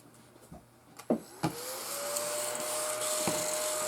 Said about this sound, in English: Now this little vacuum cleaner won't really pick up those really big long pieces of deco mesh